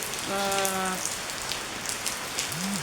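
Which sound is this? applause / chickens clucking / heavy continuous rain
heavy continuous rain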